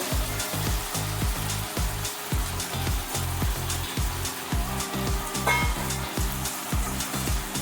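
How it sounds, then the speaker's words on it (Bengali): A hilsa fish head fries with vegetables in a pan, a dense continuous sizzle under a steady rhythmic scrape of stirring strokes, close and fairly loud with no voices. "ইলিশ মাছের মুড়োটা দিয়ে নাড়িয়ে চাড়িয়ে মশলা কিছু দেবো না"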